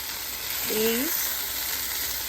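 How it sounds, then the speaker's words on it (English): Chicken browning in a pan for crockpot herb chicken, a steady low sizzle and hiss running throughout with a brief faint voice murmur in the middle. "So just cook on both sides or brown on both sides to the crock pot."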